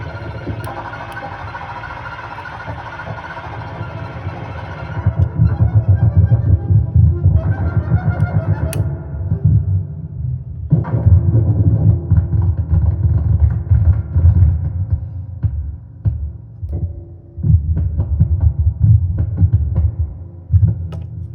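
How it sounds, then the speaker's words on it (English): A Frog synthesizer throbs with low, pulsing tones as its filter cutoff is swept by a shape signal and a second oscillator, the brightness rising and dropping in uneven bursts. "Now down is kind of the shape signal, modulating the cutoff of the filter, and up is the oscillator 2,"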